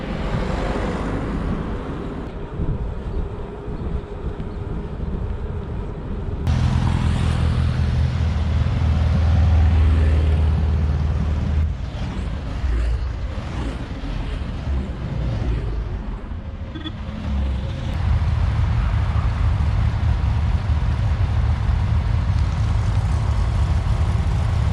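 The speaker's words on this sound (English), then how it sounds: "That was the classical car parade of the day." A steady stream of cars passes one after another along a road in France, a continuous traffic roar that swells and eases as vehicles go by, with no talking.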